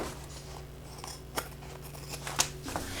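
Scissors trimming the excess length of a contrast fabric band against a main panel, giving a few distinct quiet snips in a calm room.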